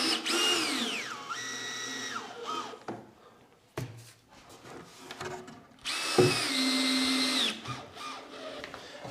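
A power drill whines as it drives screws through pilot holes into timber in a small workshop, with two clear bursts rising and falling in pitch and a brief clatter between them, close and loud with no talking.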